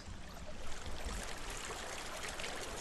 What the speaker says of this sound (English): It's a lovely waterfall.